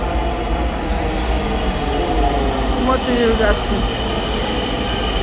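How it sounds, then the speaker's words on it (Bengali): A metro train pulls into a station with a loud, steady rumble and a faint rising whine of wheels and motors. Close voices talk briefly over the noise. "এই যে ট্রেন চলে আসছে"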